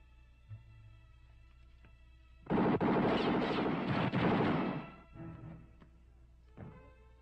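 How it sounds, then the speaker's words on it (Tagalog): Gunfire in a 1995 Filipino action movie, a dense loud burst of rapid shots lasting about two and a half seconds, then fading echoes and a few scattered later pops over quiet background hum. "putukan yun ah."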